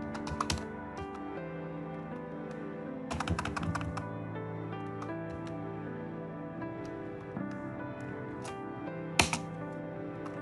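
Keys tap on a computer keyboard while text is typed in Photoshop, irregular clusters of clicks with pauses between bursts, under a quiet tonal background.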